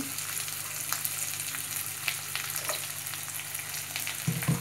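Oil sizzling and frying steadily in a pan while a Hyderabadi-style mutton curry is cooked, a constant crackle with small pops throughout, close and moderately loud, no voices.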